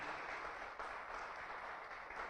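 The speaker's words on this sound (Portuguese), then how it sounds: "Só quem está muito feliz, aplauda o nome do Senhor nessa noite." A church congregation applauds during an evening service, a dense, even wash of clapping that sounds distant and fairly quiet and continues steadily throughout.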